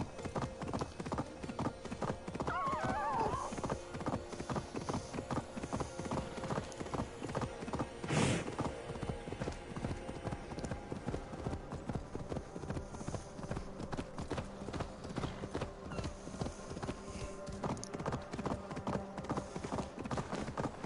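Horse hooves clip-clop in a steady rhythm through the medieval world of the video game Assassin's Creed Valhalla, with a short whinny near the middle and game ambience running beneath the quiet, continuous trotting.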